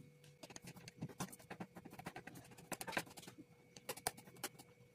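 A knife chops garlic in a kitchen in quick, irregular bursts of sharp taps against a board, quiet and close, with brief pauses.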